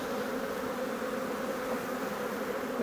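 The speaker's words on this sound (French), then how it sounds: "Et là il y a une quantité d'abeilles mon pote." Dense, steady buzzing of many honeybees over an open beehive during a spring inspection, a close continuous hum with no voices.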